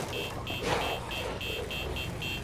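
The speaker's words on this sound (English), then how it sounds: "what we're gonna do is honk our horn and just lure them away" A car horn in the zombie survival game State of Decay 2 honks in a steady series of short, evenly spaced blasts, loud and close, with a voice faintly underneath.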